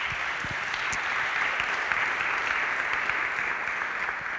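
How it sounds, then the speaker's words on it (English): A conference audience applauds steadily after a talk, a dense, even wash of clapping from a large hall that holds at a constant level throughout. "Big applause."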